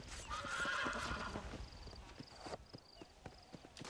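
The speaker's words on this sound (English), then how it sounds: "My horse just ran away." A horse in Red Dead Redemption whinnies loudly and runs off, with a neigh in the first second and a half, then lighter hoof clatter trailing away amid game ambience.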